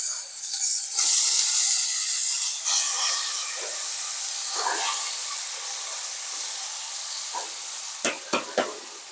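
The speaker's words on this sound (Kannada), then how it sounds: "ಈಗ ಸೊಪ್ಪು ಹಾಕ್ತಾಯಿದ್ದೀನಿ" Fresh keerai greens hitting a hot pan give a loud, steady sizzle and hiss that fades slowly, with a few sharp stirring clinks near the end.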